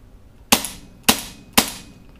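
A paintball marker fitted with a marksman barrel and a smaller shroud fires three sharp, loud pops at an even pace, each with a short decaying tail, with no talk.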